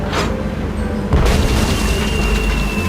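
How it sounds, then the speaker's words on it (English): Cannon blast from a Hungarian easy-action cannon in the adventure game Tales of Monkey Island: a single loud boom about a second in, followed by a sustained rumbling tail with game music underneath. "It's one of those spiffy new Hungarian easy-action cannons"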